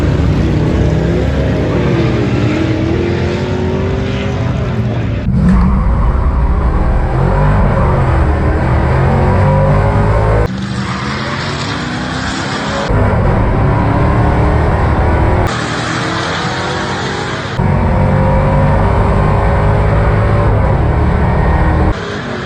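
Jeep engine revving hard at high RPM during a duct tape drag race, a loud continuous roar with abrupt shifts and surges in pitch across several pulls, close and dominant with no talk.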